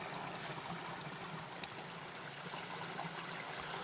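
Water poured into a pot of stew meat makes a faint, continuous trickling stream throughout, with no voices.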